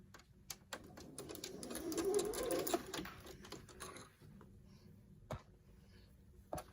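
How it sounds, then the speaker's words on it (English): A sewing machine stitches bag lining pieces together in a close, rapid mechanical run that swells for a couple of seconds and then stops, followed by a few scattered clicks and taps. "Now, what I want to do is sew them together."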